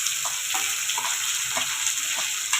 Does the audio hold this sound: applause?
no